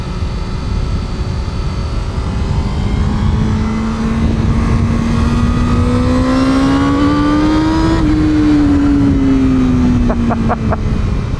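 A 2021 Honda Fireblade CBR1000RR-R SP engine pulls loudly on the throttle, its steady drone rising in pitch then dropping after a shift, with wind rush from the ride.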